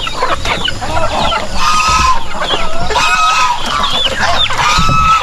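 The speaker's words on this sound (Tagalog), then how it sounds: "Ayan yung mga pabo namin." A flock of turkeys gobbles and calls close by, overlapping warbling cries rising and falling throughout without pause.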